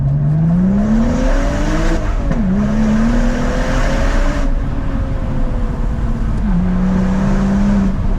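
A car engine revs hard and continuously as the car is driven uphill through bends, its tone rising and dipping with each corner and never letting up. The sound is loud and close, with no talking.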